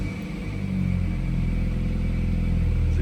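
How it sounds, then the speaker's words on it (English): A BMW F-series car with its exhaust valve held permanently open starts up, a brief cranking swell settling into a loud, steady deep idle rumble close by, with no voices. "So here we start the car again."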